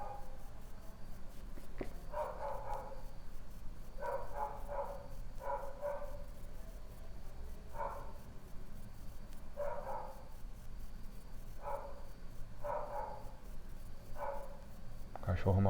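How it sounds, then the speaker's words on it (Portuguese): A dog barks repeatedly in the distance, in short irregular bursts over a steady background hiss, faint and far off. "Cachorro maldito."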